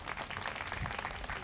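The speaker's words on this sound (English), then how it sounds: "big round of applause for the Arts Commission staff that have championed this project." Audience applause honoring city arts commission staff at a groundbreaking ceremony for the Bayview Opera House renovation, a dense steady burst of many hands clapping at close range with no talking.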